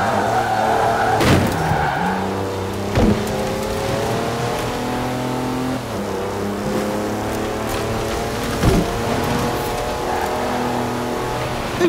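An SUV in the video game Forza Horizon 4 driving off-road with four-wheel drive and knobbly tyres, engine droning and shifting through gears, with skidding and thumps from rough ground, loud and continuous.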